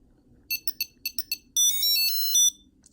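A Tile Slim tracker chirps its activation tune: a few short electronic beeps, then a sustained bright warbling melody, fairly loud against a quiet background hum.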